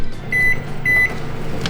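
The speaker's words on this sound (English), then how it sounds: "you're gonna put it in the microwave for 90 seconds" A microwave oven heating a sock filled with rice gives two clear, evenly spaced electronic beeps over a low, steady hum, loud and close, with no talking.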